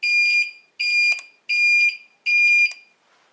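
Four loud, even electronic beeps from a TAILG TL1500DT-5 electric scooter under repair, each about half a second long, repeating in a steady rhythm close by.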